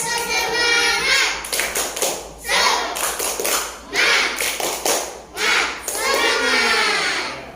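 A class of children repeats the tepuk semangat chant, rhythmic group clapping in short bursts with voices calling along, broken by brief gaps where a teacher talks.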